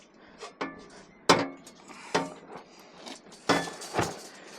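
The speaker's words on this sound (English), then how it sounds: "Muffler slides onto crossover pipe." A Harley muffler is worked onto its crossover pipe, giving a series of sharp metallic clanks and knocks spaced irregularly, close and fairly loud against a quiet background.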